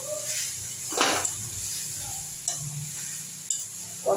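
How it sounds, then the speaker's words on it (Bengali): Spring onion greens being sautéed with a splash of water in a pan for a fish curry, a soft steady sizzle and hiss broken by a few sharp stirring scrapes and clinks, faint and close. "জল দিয়ে এইভাবে আমি কষিয়ে নেবো সবজিটাকে।"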